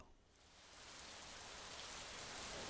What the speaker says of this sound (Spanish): Sonido de lluvia, de tormenta.